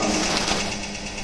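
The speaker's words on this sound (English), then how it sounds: "I will set the speed at 500 RPM by rotating this knob." Pin-on-disc wear test apparatus running at 500 RPM with a brass specimen, giving a steady close motor whir with a faint rapid rhythmic flutter, brief and continuous.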